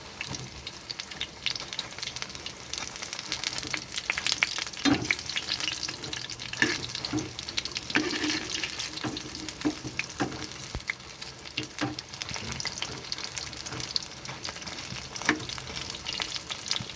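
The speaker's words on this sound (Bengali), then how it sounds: "ফুলগুলোর মধ্যে দিয়ে এরকমভাবে ডুবিয়ে নিয়ে তেলে দিয়ে দেবো।" Battered pumpkin flowers fry in hot oil in a frying pan, giving a continuous dense crackling sizzle with occasional stirring noises and no talk.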